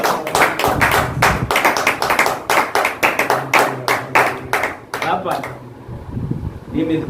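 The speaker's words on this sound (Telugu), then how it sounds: "చప్పట్లు కొట్టి" A church congregation claps hands in a fast, even rhythm, loud and close, with a voice speaking over the clapping before it stops near the end.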